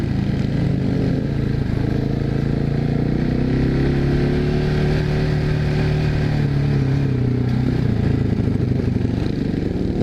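A 2021 GPX MOTO FSE 450R motorcycle engine runs loud and close, a steady mid-pitched drone with slight rises and falls in revs and a clattery edge, continuous for the whole stretch.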